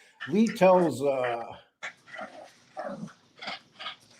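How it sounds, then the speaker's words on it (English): A dog whines in a long, wavering cry, then gives a series of short, softer yelps and barks spaced out over a few seconds, fairly quiet overall. "what is that noise? It's my dog."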